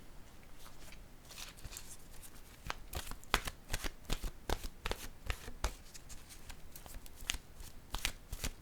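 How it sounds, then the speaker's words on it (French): Oracle cards being shuffled by hand nearby: rapid, irregular papery riffles and slaps in bursts, growing busier partway through, with no voices. "Je vais piger une carte de mon oracle de l'âme intuitive."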